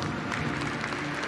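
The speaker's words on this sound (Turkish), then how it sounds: "Büyük alkışlarla" Steady applause from the crowd at a TEKNOFEST award ceremony, a dense wash of clapping heard at moderate level for the whole brief moment.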